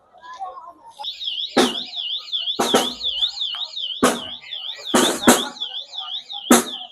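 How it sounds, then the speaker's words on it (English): A loud alarm wails in a fast, warbling up-and-down tone, with sharp bangs and cracks breaking over it and a voice briefly heard at the start. "Oh, set some fire alarm off."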